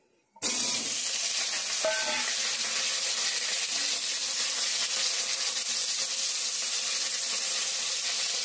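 Fish reheating in a frying pan in a home kitchen sizzles with a steady, loud, continuous hiss that sets in sharply and carries on without a break, with faint clinks early on.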